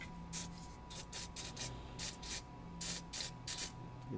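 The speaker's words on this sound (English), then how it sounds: "So we're just going to go ahead and spray it real quick." A spray can of lubricant aimed at a 2012 Honda Civic Si exhaust hanger, about ten short hissing bursts in quick, uneven succession, close and fairly quiet.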